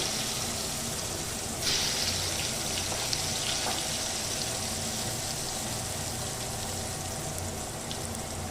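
Sliced potatoes for a fish curry frying in hot oil with cumin tempering, a steady dense sizzle with small pops and crackles throughout, fairly close and even in level, no talking.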